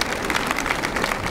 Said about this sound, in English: give them a great round of applause and thank you for what they've done